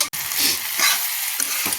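Onion, ginger, garlic and pointed gourd stirred in a hot pan, a bright continuous sizzle with scraping strokes of the spatula, close and steady.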